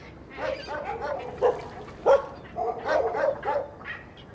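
Wild dogs coexisting with baboons around a dump bark and yip in a quick series of sharp calls, moderately close, with several short bursts over a few seconds.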